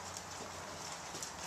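Horse hooves clip-clop steadily as the horse is ridden in a circle during a riding lesson, a continuous, even rhythm of footfalls at moderate distance with no talk over it.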